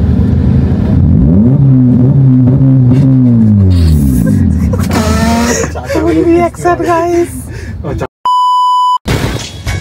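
A modified car engine in West Bengal revs loudly and repeatedly, its pitch swinging up and down in rising and falling surges, close by with people talking over it, briefly cut by a steady electronic beep tone.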